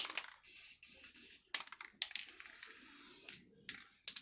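Short bursts of aerosol spray hiss from a can, several quick puffs followed by a longer sustained spray, close and fairly soft.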